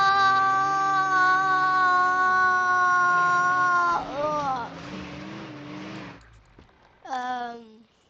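A voice imitates a car engine revving at full throttle, giving a sustained buzzing tone that rises and dips in pitch, then breaks off into a short final rev.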